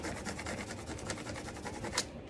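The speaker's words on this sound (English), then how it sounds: "Take my little scraper tool and just kind of burnish it to get" Soft, rapid scraping and rubbing as a small scraper tool burnishes the surface of a homemade rolling tray, quiet and close, continuing evenly throughout.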